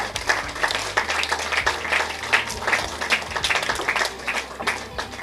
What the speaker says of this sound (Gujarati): ઐશ્વર્યા મોદી માટે તાળીઓ થઈ જાય.